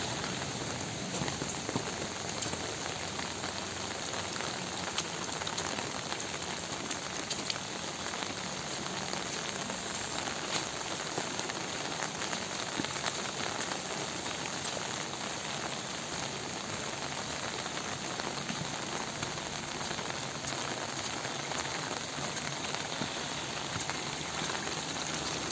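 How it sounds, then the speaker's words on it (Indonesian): Heavy rain pours over the Ciamis countryside in a dense, unbroken hiss that holds steady throughout, with no voices. "Kita nggak boleh lama-lama di sini karena hujannya makin deras"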